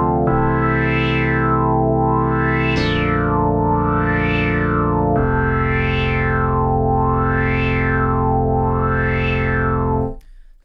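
A Prophet 6 synthesizer holds sustained chords while a triangle-wave LFO sweeps the low-pass filter up and down in a smooth, regular wah-like cycle, loud and continuous, changing chords twice before cutting off.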